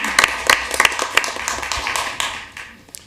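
A small audience at a school board meeting claps briefly, with a few sharp, close hand claps up front thinning into scattered, fading claps, and a voice murmuring underneath.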